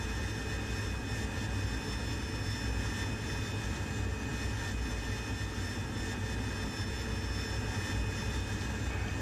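AV-8B Harrier jet engine in the DCS World flight simulator during landing and taxiing, a constant loud roar with a high whine on top, steady throughout, no voices.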